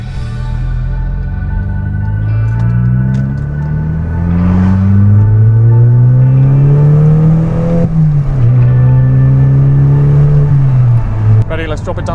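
Volkswagen Golf GTI with 152,957 miles revving hard while driving, its engine note climbing through repeated rising sweeps and dropping between gear changes, loud and close, with people talking briefly inside the car.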